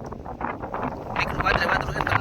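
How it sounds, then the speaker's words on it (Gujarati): Wind rushes and buffets the microphone in a steady roar that swells louder toward the end, with a voice faintly mixed in. "અટાણ પવન છે દોસ્તો"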